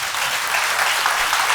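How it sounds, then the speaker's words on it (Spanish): A church congregation applauds steadily at a worship service, a dense, even wash of clapping filling the short moment without a break. "Dele un aplauso al Señor."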